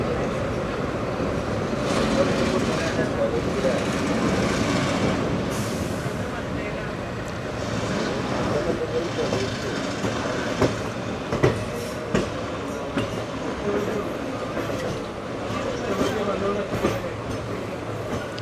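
A train runs on the rails near Shoranur, Kerala, with a continuous rumble and clatter heard from on board. Some knocks and bumps come through, and voices murmur faintly underneath.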